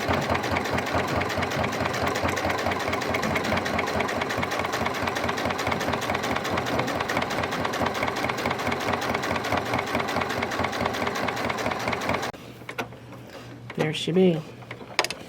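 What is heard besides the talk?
sewing machine stitching vinyl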